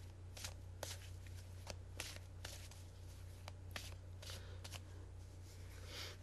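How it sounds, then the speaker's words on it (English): Rapid riffling and snapping of a card deck being shuffled, several quick bursts close by against a steady low hum. "I'm going to continue to shuffle"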